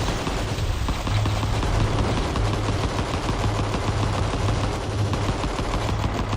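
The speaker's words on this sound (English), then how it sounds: "Trying to gun me down, how dare you?" Rapid, continuous gunfire from The Survivor Runs: Vital Shell video game, a dense stream of shots that runs loud and steady for the whole stretch with no talking over it.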